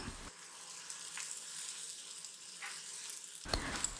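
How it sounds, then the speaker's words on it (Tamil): About 200 grams of finely chopped beans sauté in hot oil in a pan, giving a steady, close sizzle. The crackle runs continuously, with a brief louder rustle near the end. "நல்லா அந்த எண்ணெயிலேயே ஒரு 3 நிமிஷம் வதக்கிக்கணும்"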